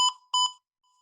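Two short electronic beeps in quick succession from a thermal camera's fever alarm, bright and tonal, followed by a faint trailing tone.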